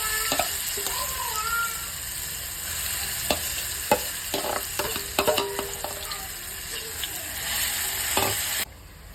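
Raw mango chutney sizzling in a mustard seed tempering gives a steady bright hiss, broken by sharp pops and the scrape of stirring, close and moderately loud.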